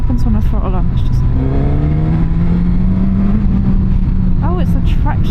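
Suzuki GSX-S1000GX motorcycle engine pulling under throttle, a steady rising drone heard close over heavy wind noise, with a person talking over it.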